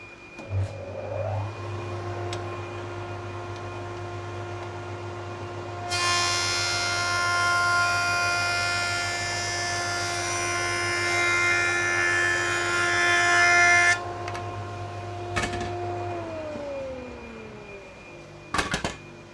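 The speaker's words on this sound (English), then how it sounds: "Turn the blower off." A workshop dust-collection blower starts with a rising whine and runs as a steady, loud drone alongside a tablesaw, with a brief burst of higher machine noise in the middle before it winds down, no talking.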